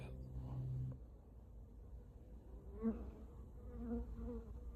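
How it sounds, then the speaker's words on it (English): A steady low buzzing hum of honey bees in a sparsely populated hive, soft and continuous, with a few faint thumps and a brief murmur of sound partway through. "Well, there are not very many bees in here."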